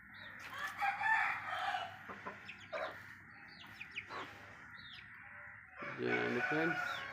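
A home-raised young rooster crows close by in a few loud, drawn-out calls separated by short pauses, with softer clucks and a little bird chirping in between, in a quiet yard.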